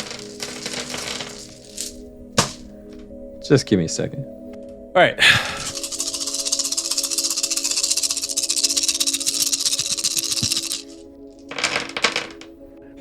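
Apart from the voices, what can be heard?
handling and rolling many dice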